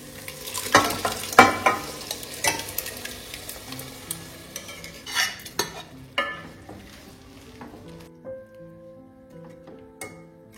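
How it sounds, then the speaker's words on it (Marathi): Cooked ragda tipped into a hot pan and stirred, opening with a few loud thuds and scrapes over sizzling, then quieter clinks and a fading simmer. "शिजवलेला रगडा मी यात टाकणार आहे"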